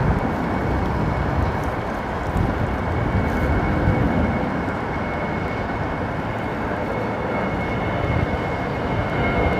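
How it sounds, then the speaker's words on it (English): An American Airlines Boeing 787 taxis at Heathrow Airport, a steady broadband jet-engine roar with a faint high whine, holding constant and fairly close for the whole stretch without letting up. "the American 787 taxiing behind the Air India now"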